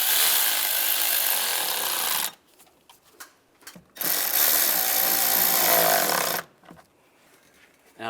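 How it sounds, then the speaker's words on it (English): A worm-drive hose clamp is tightened on the coolant hose of a 2007-2013 Chevrolet Silverado 1500: two long bursts of dense, close ratcheting or whirring, each lasting a few seconds, separated by quieter clicks and handling noises. "and tighten the worm clamps down"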